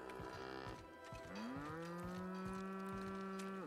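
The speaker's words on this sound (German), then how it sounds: "Warum sind da Kühe auf meinem Schiff?" Cows low repeatedly in a sci-fi game's spaceship, the moos overlapping in long, drawn-out calls against a steady mechanical background hum, loud and close.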